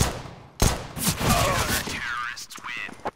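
P250 pistol gunfire on Dust2 in a CS:GO match, several sharp shots with other game sounds while a commentator talks excitedly over them.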